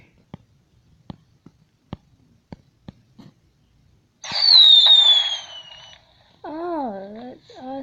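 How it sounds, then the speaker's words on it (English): Fireworks display: a run of sharp, evenly spaced pops about every half second, then a loud whistling burst that slowly falls in pitch, followed by warbling, wavering tones. "Start a firework."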